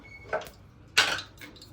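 A spoon clinks twice against a hot pressure cooker while ghee is added for chicken biryani, two short, close metallic taps with a faint third knock.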